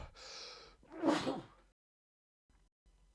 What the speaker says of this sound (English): I feel like I got a sneeze coming.